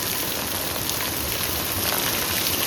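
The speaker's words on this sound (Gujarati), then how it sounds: "આજ તો આવી ગયો તલારામાં ધોમદાર વરસાદ જોઈ શકો છો તમે" Heavy monsoon rain pours down in a steady, dense hiss that fills the whole clip without a break, with no voices over it.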